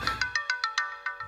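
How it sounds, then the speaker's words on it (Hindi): A mobile phone ringtone for an urgent call, a bright electronic melody of about nine evenly spaced, rapidly repeating tones, close and clear with nothing else heard. "आंटी, अर्जेंट फोन है, प्लीज।"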